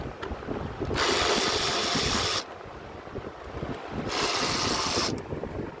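A ratchet wrench loosens hose clamps on the airbox of a 1993 Ford truck in two close bursts of rapid clicking, each lasting a second or so, with quieter pauses between.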